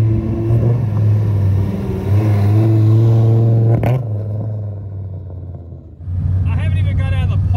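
A Nissan 240SX fitted with a Viper V10 engine rumbles and accelerates with a deep, loud drone that drops away briefly and then returns, while people talk over it.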